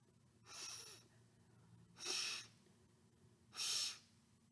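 A person imitates a dog searching with three sniffs, one at a time and evenly spaced, each a short, breathy burst through the nose with quiet pauses between.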